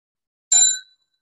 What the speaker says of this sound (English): So when Fee rings the bell